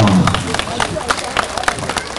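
An audience at a Korean folk festival performance of a singing beggar act in Namwon claps loudly in quick rhythmic bursts, mixed with crowd murmur and voices.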